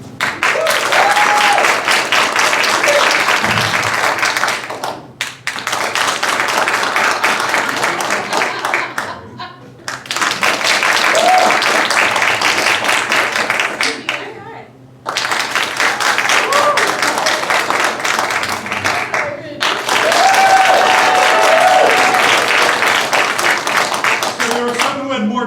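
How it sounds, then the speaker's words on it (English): An audience applauds in several long, loud bursts of dense clapping to vote for stories, with brief quiet gaps between rounds and some rounds more enthusiastic than others. "People clapping, and there were some who had more enthusiastic clapping, and Corey had neither."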